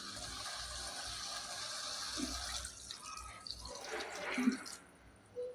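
Water pours and splashes into a pot of chilli dal gosht curry nearby, a steady trickling rush that tapers off near the end.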